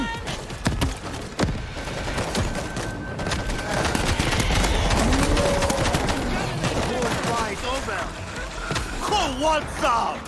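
A big gun firing in World War Z: Aftermath, zombie chaos in Tokyo: dense, continuous heavy gunfire and explosive bursts amid a loud crowd of shrieking zombies, with voices shouting over the din.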